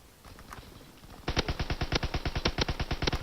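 Rapid automatic gunfire from a Call of Duty WW2 weapon, a sustained burst of evenly spaced loud shots starting after a quieter stretch of faint clicks and movement, close and with no talking.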